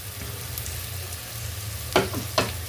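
Marinated soya chunks are sautéed with masala in a pan for soya chunk biryani. A continuous frying sizzle is broken near the end by two sharp stirring scrapes.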